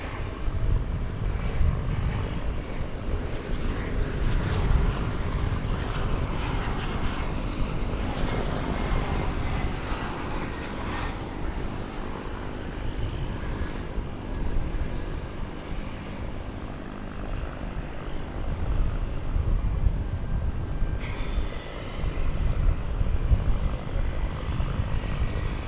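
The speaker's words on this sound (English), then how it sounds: "That American Eagle flight came in from Stillwater" An American Eagle CRJ regional jet arriving at Dallas Fort Worth airport from Stillwater, Oklahoma produces a broad, sustained engine roar that swells and eases, heard from a distance outdoors with steady low rumble throughout.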